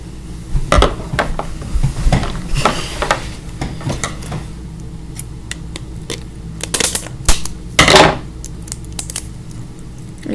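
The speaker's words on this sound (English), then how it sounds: "I need the scissors to open this." Scissors snipping and rustling against plastic packaging while a mystery fidget toy bag is opened, a series of close, irregular clicks and crinkles with short pauses between bursts.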